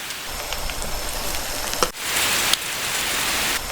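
Dense, steady rain hisses on a surface, close and loud throughout, with a short dip partway through and no voices. The sound is likened to a kimchi pancake frying.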